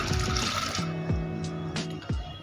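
Water poured from a vessel into a pressure cooker holding dal on a gas stove, a steady close splashing pour with a few gurgling surges, no talking.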